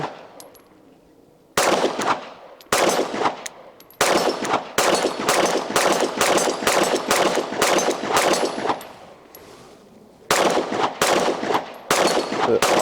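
A Gen6 Glock 17 pistol firing its first rounds at steel targets outdoors, loud sharp reports in quick rhythmic strings of several shots each, broken by short silent pauses between strings, with no talk.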